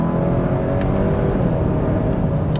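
A 2022 Hyundai Santa Cruz AWD pickup with a dual-clutch transmission drives along, its engine and road noise forming a steady, close drone throughout, with no distinct shift point standing out.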